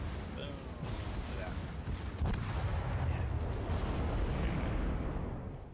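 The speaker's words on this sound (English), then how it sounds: "Oh, here come the torpedoes. That's the death of that battleship." Torpedo impacts and explosions rock a battleship in a naval warfare video game, a dense continuous roar of booming blasts and rumbling detonations filling the scene, loud and sustained.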